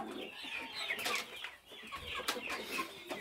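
Hens clucking in a backyard chicken coop, several soft overlapping clucks and short calls, fairly close and steady throughout, with no talk over them.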